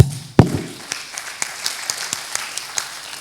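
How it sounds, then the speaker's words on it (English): Audience clapping for presenters at the close of a conference session, a sharp opening clap followed by sparse, spaced individual claps that thin out across the room. "Let's give them a clap."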